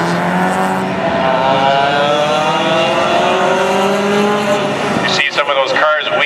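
Small Honda CRX and Del Sol race cars at Mission Raceway roar past in a closed-wheel race, a loud sustained engine drone that rises and falls as they go by, with a commentator talking over it.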